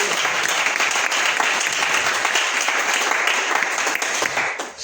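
A church congregation applauding, a loud, sustained wash of many hands clapping together that continues steadily throughout before easing slightly at the end.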